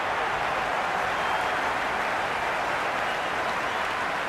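Stadium crowd in the Cricket 26 video game, an India vs South Africa one-day international, applauds and cheers as a loud, unbroken wall of noise with no pauses.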